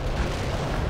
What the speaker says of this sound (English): Artillery barrage is prepared.